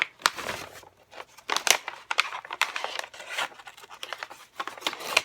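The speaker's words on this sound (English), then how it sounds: "I'm just going to take my scissors and trim the edges off here." Scissors trim the edges off a paper bag used for wrapping a package, producing a close series of crisp snips and crinkling rustles in irregular bursts with short pauses between cuts.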